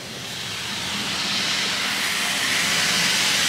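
Spray nozzles at an automatic car wash douse a car with foam, a loud rushing hiss that swells over the first second and then holds steady, with no one talking.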